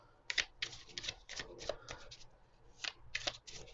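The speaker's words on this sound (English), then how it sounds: "Okay, let's shuffle the little pocket edition." A small pocket-edition tarot deck being shuffled by hand, quiet papery riffling bursts in short irregular runs close by, with no talk.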